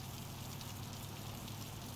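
Light drizzle in American Truck Simulator, a soft, steady patter of rain with low, constant rumbling underneath, faint and uninterrupted throughout.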